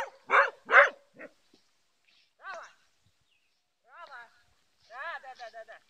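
A dog gives two sharp, loud barks close by, followed by a short yelp, then someone speaks in short phrases during dog training.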